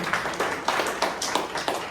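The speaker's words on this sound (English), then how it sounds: "Round of applause." A handful of people at a Toastmasters club meeting clap in a quick, uneven rhythm, close and moderately loud, with no voices over the clapping.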